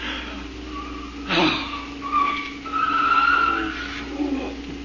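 Tires squeal as a car skids in a 1937 old-time radio drama, several rising screeches over a steady engine drone, the longest near the end, loud and close with no speech.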